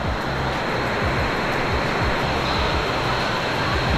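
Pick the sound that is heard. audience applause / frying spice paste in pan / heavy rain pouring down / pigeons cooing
heavy rain pouring down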